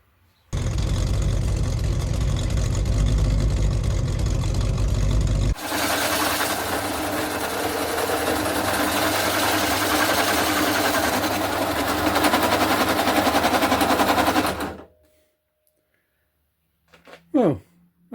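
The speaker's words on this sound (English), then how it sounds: "I can weld all the way around there" Arc welding around an exhaust flange on a classic car during an exhaust leak repair, a loud steady crackling buzz running continuously for about fourteen seconds, shifting tone partway through, then stopping abruptly into near silence.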